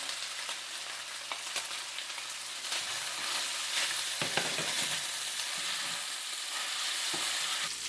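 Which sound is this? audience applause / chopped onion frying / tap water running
chopped onion frying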